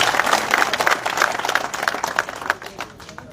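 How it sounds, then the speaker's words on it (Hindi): A crowd at a BJP campaign rally in Shanti Nagar, Thanesar claps in a brisk, fairly regular rhythm, then the sound thins and fades near the end. "बार जोरदार ताली इसके लिए दिया"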